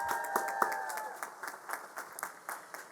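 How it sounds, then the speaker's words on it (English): Audience applause at a college commencement ceremony: a burst of clapping that starts strong, then thins to scattered, uneven claps across three seconds, with a tonal ring in the first second. "Round of applause for Doris."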